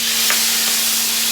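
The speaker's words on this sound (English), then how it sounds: "now I'm going to throw in the sauce that we have in this blender" Tomato salsa sauce poured from a blender into a hot pan sizzles and hisses loudly and steadily for a brief moment at close range, with no voices.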